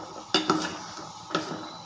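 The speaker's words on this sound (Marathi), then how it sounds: "आपण आता कढईमध्ये परतून घेऊया" A spoon scrapes and knocks against a kadhai while sabudana is stirred, giving three short, close metallic clinks spaced across a quiet kitchen background.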